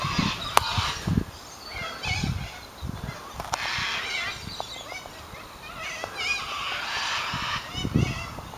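Geese honk repeatedly beside a river, a nearby adult and a young one calling in bursts of harsh, overlapping honks against faint background noise.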